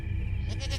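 A goat bleating in a village, one loud, close, drawn-out wavering cry that fills the short moment with no other sound.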